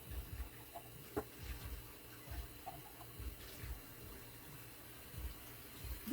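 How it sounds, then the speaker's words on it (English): Tap water runs into a sink while a cup is rinsed out, a soft steady flow with small splashes and clinks, fairly quiet and close, with no one speaking. "Now I gotta rinse all the shit out"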